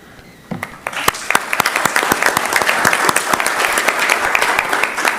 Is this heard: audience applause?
yes